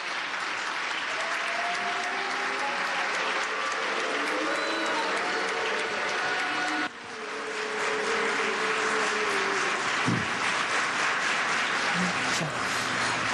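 Large audience at a university forum reacting to the Iranian president, broad dense applause mixed with booing and crowd voices, loud and sustained throughout with a brief dip midway.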